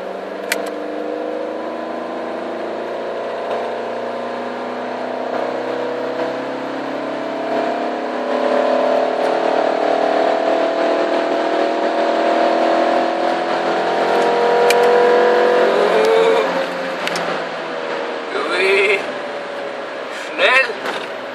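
Renault Clio RS accelerating in fourth gear from 50, heard from inside as a steady engine drone rising slowly in pitch and loudness, with faint voices talking over it.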